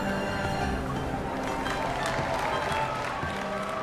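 Crowd cheering and applause in the video game Love and Deepspace, a dense, steady wash of clapping and voices at a festive event with a dragon dance troupe, loud and continuous throughout.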